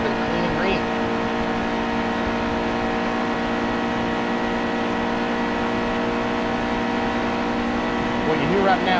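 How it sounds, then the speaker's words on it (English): Race car engines in the NASCAR Heat 2 video game roar at Talladega in a steady, unbroken drone with a dense, continuous tone, while a commentator talks over it throughout. "What you hear right now, the sound of these engines here, this is constant noise."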